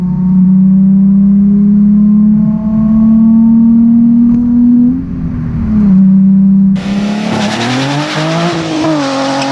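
A 2008 Nissan 350Z with the HR engine accelerates hard, its loud, close engine note droning and rising before a sudden louder, harsher roar with a shift-like pitch change near the end, alone without talk.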